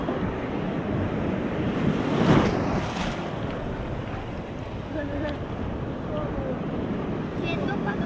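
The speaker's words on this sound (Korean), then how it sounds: "파도가 너무 멋져" Ocean surf rushes and roars continuously at a beach in Gangneung, with a swell breaking mid-way, wind buffeting the microphone, and faint voices underneath.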